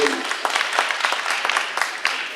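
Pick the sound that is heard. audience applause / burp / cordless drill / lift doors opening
audience applause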